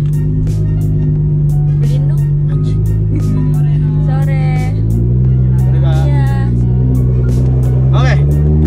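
Nissan GTR R35 engine droning steadily at close range from inside the car as it pulls out of a housing complex, with people talking over it throughout.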